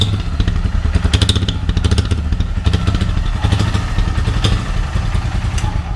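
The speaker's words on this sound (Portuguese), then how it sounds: "Ó, esse é o barulho dela com esse escapamento" A motorcycle with an estralador exhaust idles loudly nearby, its steady, rough, chopping engine note broken by rapid clattering pops and thuds throughout.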